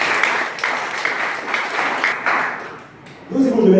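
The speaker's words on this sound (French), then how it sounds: "Nous sommes tous contents de faire un applaudissement." Congregation clapping in a church during a service, a steady broadband patter of many hands lasting about three seconds before fading, then a voice begins speaking.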